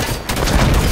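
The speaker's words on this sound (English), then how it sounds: "Incineration cannons on the field." Incineration cannon fire in a Big Team Capture the Flag match on the Halo map Basin, a loud, dense burst of explosive booms packed into one second with no pause.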